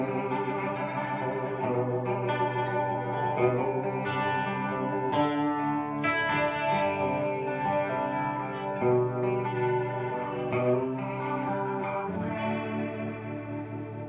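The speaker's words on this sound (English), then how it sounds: "I think it has the best, truest Leslie sound, and it kind of does this thing here." Electric guitar chords swirling through a rotating-speaker effect, with a warbling, pulsing chorus-like shimmer sustained throughout at steady volume.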